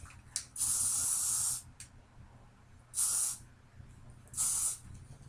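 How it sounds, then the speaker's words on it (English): L'Oreal Paris Elnette hairspray is sprayed in three close, loud hissing bursts, the first lasting about a second and the next two shorter, separated by quiet pauses. "you can hairspray, and I'm using the L'Oreal Paris"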